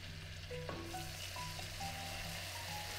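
Flour being added to bubbling melted butter in a pan for a lasagna sauce, with a steady close sizzle and fine crackling throughout, heard alone without talk.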